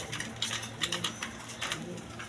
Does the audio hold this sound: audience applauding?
no